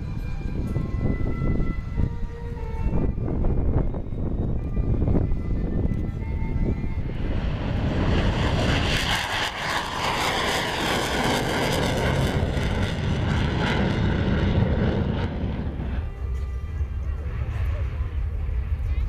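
A Czech Air Force Saab JAS 39 Gripen jet fighter at an air show, its engine roar swelling loudly into a broad rushing pass and then fading, heard over crowd noise.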